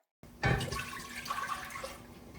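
Water poured from a container into a pot on the stove while making syrup, a sudden splashing gush that settles into a steady trickling stream, close and moderately quiet.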